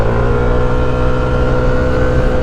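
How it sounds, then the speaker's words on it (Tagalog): Sidoy's motorcycle, fitted with an RCB brake system, runs steadily at close range, a continuous engine drone with a low rumble that holds an even level throughout, with no talking. "Ganda pa ng takbo ng motor niya"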